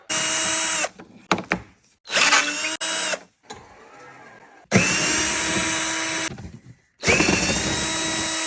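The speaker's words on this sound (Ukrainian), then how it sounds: "Тепер відкручуємо під номерним знаком." A power tool unscrews the bolts under the license plate of a Volkswagen Passat B6 in short bursts of loud, close whirring, with brief quiet gaps and clicks between runs and no speech.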